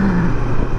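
A Kawasaki Versys 650 ABS Tourer 2018 motorcycle accelerates, a loud close engine whine that drops in pitch as it shifts, over steady road rumble.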